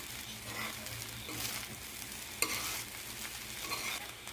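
Egg fried rice being stirred in a hot pan, with a steady sizzle and a constant scrape of the spatula and one sharp clink at about the midpoint. There is no talking.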